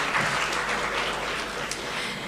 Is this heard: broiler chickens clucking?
no